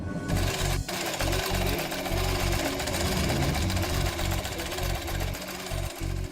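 An electric sewing machine runs continuously and close, a fast steady mechanical chatter with slight dips in speed and a brief catch near the start.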